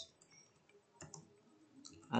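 Keys on a computer keyboard click quietly in scattered taps, with a louder cluster of keystrokes near the end.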